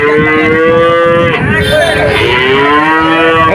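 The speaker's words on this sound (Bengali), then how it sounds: "দারুণ দারুণ গাই গরু" Cows at a cattle market in Shahpur mooing loudly and close by, with one long, drawn-out low call that bends in pitch and overlaps another lowing cow.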